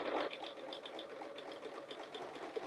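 A sewing machine stitches a quilted feather motif, giving a soft, quick run of evenly spaced mechanical ticks that continues without pause at close range.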